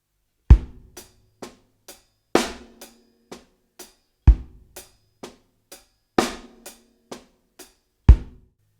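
A drum kit plays a simple linear groove in 4/4 alone, with sharp separate hits of kick, snare and cymbals falling one at a time in a steady, sparse pattern, close and dry.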